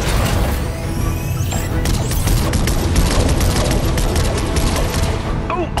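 Rapid, loud bursts of sci-fi laser cannon fire from Fortnite's Battle Bus crackle continuously over rumbling booms and mechanical noise, dense and relentless throughout.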